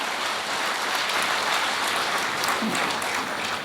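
A Hindi comic poetry (hasya vyangya) audience applauds steadily, a dense wash of clapping that holds at an even, moderately loud level from start to finish with no talk over it.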